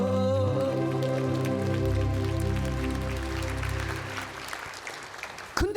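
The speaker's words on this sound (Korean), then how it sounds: "박수 한번" A church congregation applauding: a steady patter of many hands over sustained music, tapering off near the end.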